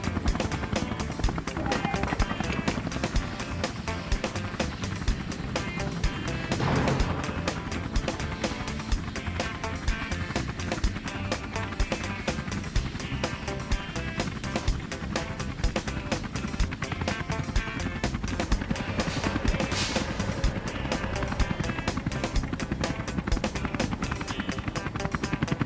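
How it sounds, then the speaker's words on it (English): A cartoon helicopter flies with a steady, loud rotor whir that runs throughout alongside busy background music. "Helicopter will transfer you and your tank."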